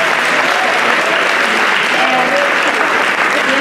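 Loud, sustained audience applause for Mr. G's restaurant fills a senior community African History celebration, a thick, continuous patter of many hands with no pauses and no voices standing out.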